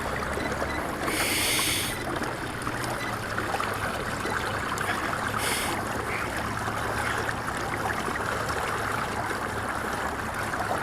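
An electric trolling motor drives a kayak across open water, with a steady broadband whir and water wash lasting throughout and a couple of brief higher hissy swells, and no talking.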